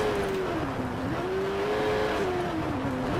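Motorcycle engine in the video game Watch Dogs holds a steady, rising and falling drone with gentle pitch swells, loud and continuous throughout with no talk.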